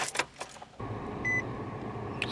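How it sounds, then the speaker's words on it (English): A car engine cranks and catches, settling into a steady close idle with a brief electronic beep over it after some earlier rustling and handling noises. "Let me start the car."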